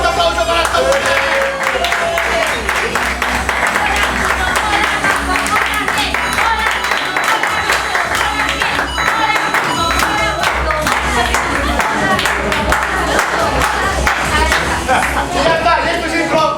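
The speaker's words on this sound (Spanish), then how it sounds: "¡Ya un fuerte aplauso para esta mujer!" Loud applause and clapping from a crowd at an improv show in a bar, with voices and chatter mixed in throughout.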